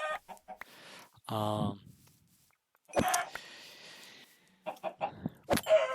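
Chickens cluck and squawk in a Minecraft world, several short bursts spread across the clip, with someone talking in between.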